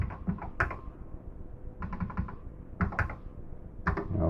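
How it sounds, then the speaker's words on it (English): Keys struck on an Apple II computer keyboard, close and clear, in short bursts of several rapid clacks separated by brief pauses, with no voices. "We'll type 10 and type H-O-M-E."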